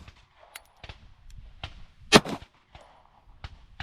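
Shots from an HK CC9 pistol at a shooting range: a string of sharp reports at irregular intervals, most fairly faint and distant-sounding, with one much louder crack near the middle.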